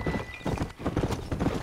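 Horse hooves clip-clop in a quick, steady rhythm in the Western video game Red Dead Redemption, close and distinct, with no talking over them.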